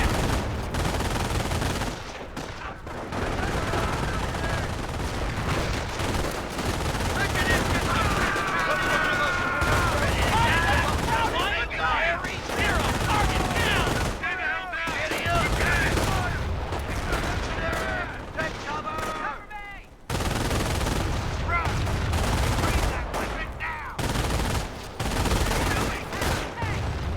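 Machine gun fire rattles almost continuously in Company of Heroes, with loud close bursts, scattered rifle shots and booming explosions around a trench fight, while soldiers shout orders over the din.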